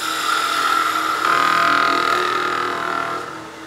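A skew chisel makes a slicing cut on a wood lathe while turning a birdhouse ornament, pressing heavily on the bevel. A loud, sustained whining scrape with a steady high tone swells midway and fades near the end.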